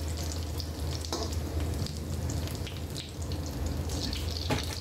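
Eggs sizzle and crackle steadily in hot oil in a frying pan, a continuous close-up frying hiss with no talking.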